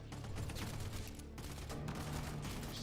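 Enemy gunfire in a video game rattles on continuously as a dense stream of rapid shots, steady and moderately loud throughout.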